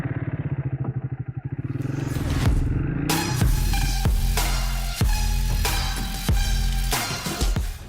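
A Triumph Speed 400 motorcycle with a 398cc single-cylinder engine thumps along loud and close. A rapid idle-like putter builds into a revving ride with repeated sharp surges, all without speech.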